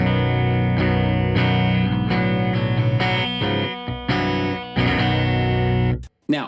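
Clean electric guitar run through an Ampeg SVT bass amp simulation on a Source Audio synth pedal, playing a steady sequence of sustained chords and notes with brief gaps, loud and close, ending in a short cutoff.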